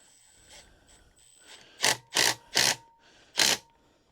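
A nut driver tightening a nut on a water well tank, with a few faint scrapes followed by four short, loud ratcheting bursts in quick succession, close by and without talk.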